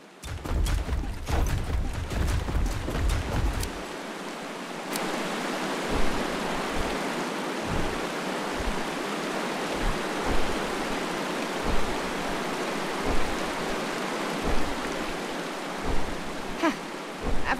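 Rushing waterfall and stream in the open-world fantasy survival game Ancient Forge, a continuous broad roar of falling water with low rumbling swells, preceded by brief clattering effects at the start.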